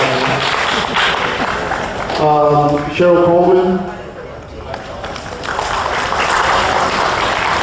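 Applause for a board member at a community school district meeting swells under a speaker's voice announcing a name, then fades and returns as a broad, steady clapping crowd in a large room.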